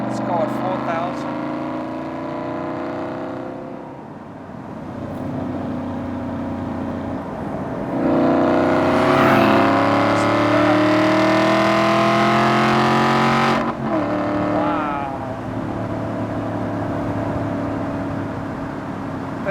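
A 2014 Maserati GranTurismo engine revs and accelerates up through the gears with a deep harmonic drone that swells louder midway, then eases, while people talk over it.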